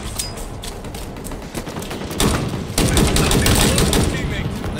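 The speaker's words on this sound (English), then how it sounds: "Machine guns." Machine gun fire in Halo Infinite: sustained rapid automatic shots growing louder and denser toward the end, with a player talking over the clatter.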